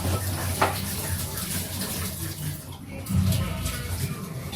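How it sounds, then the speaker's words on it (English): Water runs from a kitchen tap during cooking, a steady close rushing hiss that swells briefly near the end before settling. "I'm turning off the tap, like I'm closing the water"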